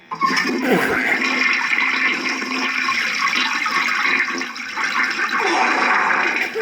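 A household toilet flushes loudly and close by, a full rushing swirl of water that holds steady for several seconds before tapering slightly near the end, with no talking.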